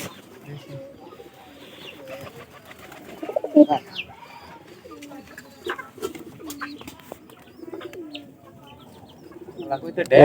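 Pigeons coo repeatedly at close range in short throaty bursts as one is released, with scattered rustles and a few louder flaps; a person talks intermittently throughout.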